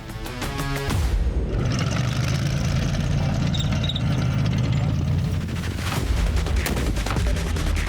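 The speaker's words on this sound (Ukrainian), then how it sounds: "Гранатометник відпрацьовує РПГ по імітованих ворожих позиціях." A heavy blast from an RPG grenade launcher is followed by sustained, rapid gunfire cracking loudly and continuously, with rumbling echoes throughout, on a military training range.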